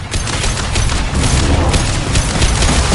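Impact shot gunfire in the Mass Effect 2 video game, a dense, loud barrage of booming shots that fills the clip continuously with no pauses.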